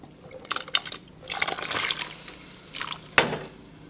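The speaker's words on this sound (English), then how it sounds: "So to my boiling water, I'm gonna add my chopped potatoes." Chopped potatoes are dropped into a pot of boiling water, making several splashy bursts and gurgling plops of liquid with a sharp final splash, heard up close with no talking.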